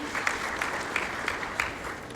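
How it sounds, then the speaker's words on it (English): Audience at a government launch event at a hotel applauding the Minister of State for primary education, a steady patter of clapping with a few sharper accents, moderately loud. "Can we clap for her once again?"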